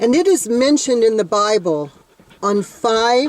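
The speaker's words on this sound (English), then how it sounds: "And I apologize for the dog panting." A dog pants steadily close to the microphone, its breathing running beneath someone speaking continuously.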